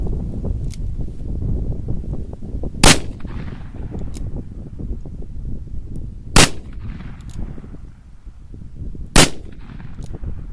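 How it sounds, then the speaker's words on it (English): Three sharp, loud shots from an 1875 Outlaw .45 Colt revolver loaded with blackpowder, fired outdoors in blizzard-like weather at a spot on the ground, spaced about three seconds apart over a steady background rumble of wind. "Shooting at the same hole in the ground."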